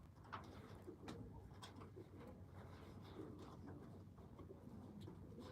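A pigeon coos softly and repeatedly somewhere near an indoor spot, faint against a constant low background hum.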